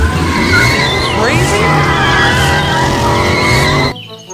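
A toy McQueen race car sound effect plays loud and continuous, with tires skidding and squealing over a revving engine, then cuts off abruptly near the end.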